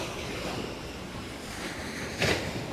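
Ocean waves wash onto a beach in a steady, rushing surf noise with wind buffeting the microphone and a brief louder surge near the end, no voices.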